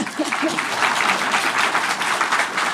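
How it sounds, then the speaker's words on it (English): Audience clapping at a live talk, a brief dense burst of applause that runs evenly throughout, close and moderately loud. "When I drink, you clap."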